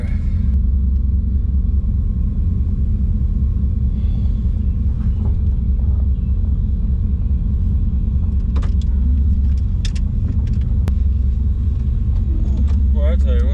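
A car on a test drive to a local gas station, with a steady low road rumble and engine drone from inside the cabin, continuous and fairly loud, with occasional light rattles.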